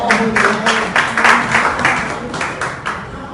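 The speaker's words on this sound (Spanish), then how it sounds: "Fuerte el aplauso" A group applauds after a presentation on teaching techniques, a short burst of close, fairly loud clapping in waves with a faint tone beneath.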